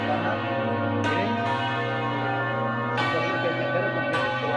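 Hand-rung church bells in a Ribera del Duero bell tower, long sustained tolling with fresh strikes every second or two over a continuous ringing hum, loud and close.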